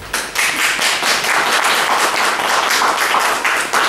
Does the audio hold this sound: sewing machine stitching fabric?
no